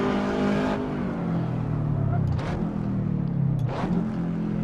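Subaru WRX STI engine revving hard in Assetto Corsa, rising in pitch through a gear, dropping briefly at each of two quick shifts around the middle and end, then climbing again, loud and close throughout.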